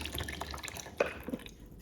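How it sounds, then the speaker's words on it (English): Buttermilk poured into red velvet cake batter, soft liquid splashes and drips close by, with a couple of sharper plops and a trailing quiet end. "So you have to add all the buttermilk"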